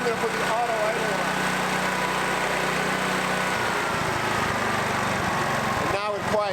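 A newly acquired electric-start generator running at idle, a steady close engine drone that shifts pitch partway through as the idle setting changes, with a brief voice near the end.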